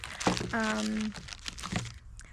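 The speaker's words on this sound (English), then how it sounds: "I kept all of my toiletries in a plastic bag." Plastic bag of toiletries crinkling in short bursts, with a person talking nearby and a brief sustained vocal tone in the middle.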